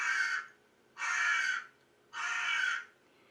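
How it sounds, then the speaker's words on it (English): Crow cawing from a played recording, three loud harsh caws in a slow even rhythm with short silent gaps between them and no talk. "let me play a crow noise."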